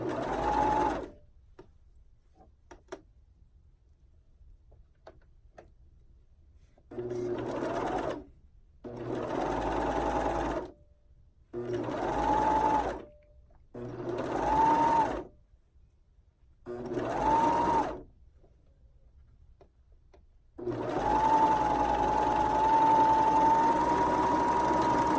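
A sewing machine stitching swimsuit fabric for a one-piece bottom, running in about six separate bursts of steady whirring separated by quiet pauses, then a longer final run; close and clear with no talk.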